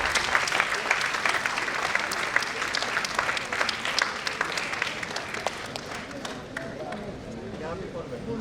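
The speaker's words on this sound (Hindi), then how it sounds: "तालियों से स्वागत करें इनका।" An audience at a ballet festival event applauds to welcome a minister, a dense, sustained clapping that tapers slightly toward the end, with a voice speaking over it.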